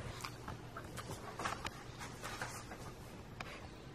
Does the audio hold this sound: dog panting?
yes